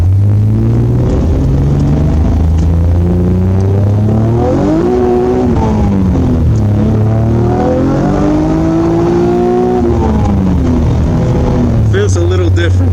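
A Nissan Maxima fitted with a new exhaust and map tune drives along, its engine note droning loudly and rising and falling through gear changes close to the cabin, with people talking over it.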